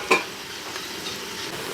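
Curry leaves hitting a hot pan over a village wood fire, a sharp sizzling burst at the start settling into a quieter, steady frying crackle.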